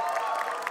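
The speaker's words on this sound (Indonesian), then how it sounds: "tepuk tangannya" Esports arena crowd at an ONIC versus Geek Fam match cheering and applauding, a dense, steady roar of many voices and claps filling the whole moment without a break.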